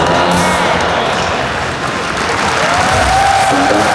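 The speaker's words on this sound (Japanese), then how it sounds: "Let's give them all a big round of applause" Audience applause fills a large hall at the Capcom Cup fighting game tournament in Ryogoku, a dense, loud, steady wash of clapping with faint crowd noise lasting throughout.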